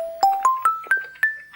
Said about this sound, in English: I've loaded a kalimba sample into ProTracker, and if I play it back at different pitches, it sounds like this.